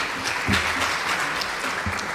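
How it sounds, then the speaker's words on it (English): At an African Liberation Day event, the audience applauds steadily as panelists join the stage, a continuous wash of many hands clapping throughout. "Please, a round of applause as they join me on stage."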